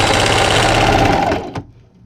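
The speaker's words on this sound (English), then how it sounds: "I'm just going to take this back over to my sewing machine and I'm just going to sew directly on that rectangle." A sewing machine stitching a jumbo quilted hot pad, a steady fast mechanical whir and rapid needle clatter at close range that runs for over a second and then stops abruptly with a final click.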